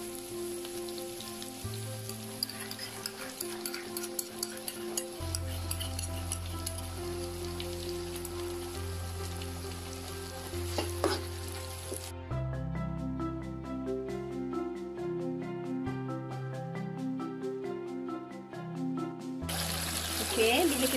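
Ground chili sizzles and bubbles in hot oil with softened golden onions as it is stirred while cooking sambal, a steady close frying hiss running under background music.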